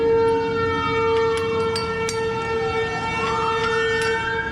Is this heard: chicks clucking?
no